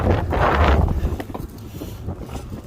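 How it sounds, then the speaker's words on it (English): Strong wind buffets and roars across the microphone in heavy gusts during roof removal, loudest at first and easing a little, with no voices. "it's hard to appreciate how windy it is right now"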